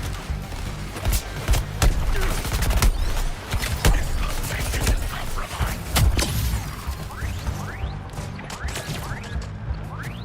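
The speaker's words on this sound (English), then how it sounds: "who's shooting lasers like that?" Laser weapons firing during combat in Suicide Squad: Kill the Justice League, a dense run of sharp zaps and impacts with rising whooshes near the end, loud and continuous over a busy game soundscape.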